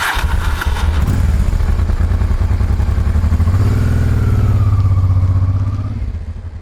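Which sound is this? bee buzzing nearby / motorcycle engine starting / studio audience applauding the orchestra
motorcycle engine starting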